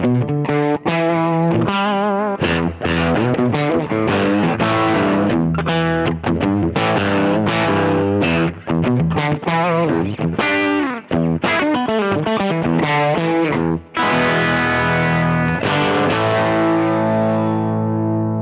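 Telecaster electric guitar played through a Velvet Minotaur Klon-style overdrive pedal set to low gain with output raised, pushing a tube amp; loud, continuous mildly driven chords and lead notes with sustained ringing tails, no talking.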